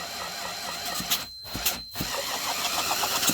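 A McCulloch 1-85 chainsaw engine is pulled over with a thumb covering the spark plug hole. Close, quiet chugging cranking strokes are heard, with brief gaps between pulls.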